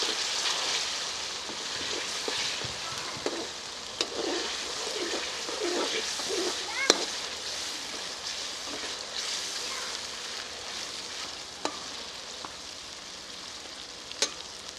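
About half a kilo of tomatoes hits ginger and garlic frying in a karahi, giving a bright, steady sizzle with stirring clatter and occasional sharp ticks of the spoon against the pan, no speech.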